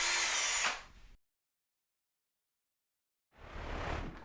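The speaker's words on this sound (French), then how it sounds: "un drill brush, c'est-à-dire une brosse rotative à monter sur une perceuse" A drill brush spinning on a power drill whirs loudly for about a second, stops, and after a gap of silence starts whirring again.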